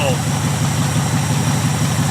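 A rusty barn-find Ford Mustang left sitting for 25 years idles steadily with an even, throbbing low rumble close by, heard on its own.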